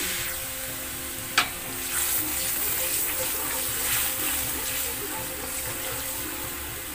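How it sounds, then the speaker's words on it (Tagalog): A little water is poured into a pot of cooking pork and vegetables with a sizzling rush, a steady hiss over a quiet background after a brief clank. "lagyan natin siya ng konting tubig"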